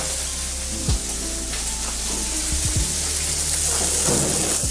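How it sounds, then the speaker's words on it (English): Cuttlefish pieces frying in hot olive oil, a steady close hiss and sizzle with occasional soft stirring knocks from turning the pieces in the pan. "Let's start by heating up a little bit of oil and throwing in the cuttlefish."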